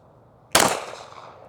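A single sharp pistol report from a custom 2011 fired on a range, one loud close crack with a quickly decaying ringing tail and no voices.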